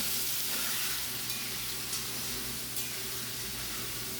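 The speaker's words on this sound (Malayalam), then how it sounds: "ചട്ടിയിൽ വെളിച്ചെണ്ണ വാർന്ന് നല്ലപോലെ ചൂടായ ശേഷം നമ്മളിതാ പച്ചമുളകും വലിയ ഉള്ളിയും കൂടി അരിഞ്ഞത് അത് നന്നാക്കി ഒന്ന് വഴറ്റാം" Chopped green chillies and big onions sautéing in hot coconut oil in a pan, a steady close hiss and sizzle with faint occasional stirring, no talk.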